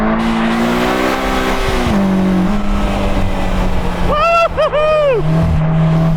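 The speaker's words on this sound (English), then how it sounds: "driving the new Slingshot on the road and then taking it on track" A 2020 Polaris Slingshot three-wheeler driven hard on a track, its engine droning steadily and loud throughout, with a brief chirping tire squeal or whine rising near the end over the constant motor noise.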